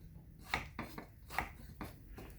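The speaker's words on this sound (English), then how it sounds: "Moving the knife, sliding it, remember? Moving forward and going down at the same time." A knife chopping cilantro on a cutting board, sliding forward and down in a steady rhythm of crisp, close cuts, about five strokes with no one speaking.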